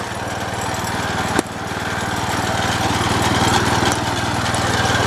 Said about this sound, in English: Idling. I need to adjust the idle and the throttle while I'm at it.